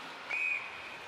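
Referee's whistle at a professional women's ice hockey game, a single short clear blast heard at a distance over the steady arena crowd murmur.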